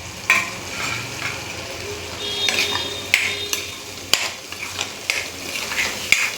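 Tomato, chili, garlic and coriander paste fries in a pan with a steady sizzle, punctuated by sharp clacks of a spoon stirring against the metal at irregular intervals.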